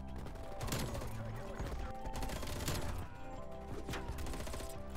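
FFAR rifle hip-fired in a first-person shooter, several rapid bursts of gunfire crackling in quick succession over a busy game soundscape.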